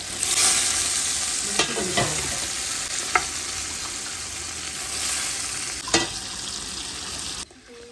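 Meat frying and being stirred in onion masala with garam masala and green chilies, a steady close sizzle broken by several scraping stirs, with no talk over it.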